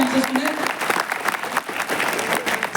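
Audience applause at a Hindi kavi sammelan poetry gathering, a dense wash of clapping from a crowd with a voice over the opening moments.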